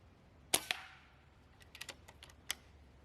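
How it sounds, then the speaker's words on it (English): Sub-500 fps air rifle firing lightweight field target trophy pellets: a sharp near crack, a second snap just after, then a run of small mechanical clicks and another sharp report near the end, all in quiet surroundings. "the gun was shooting just over 500 feet per second"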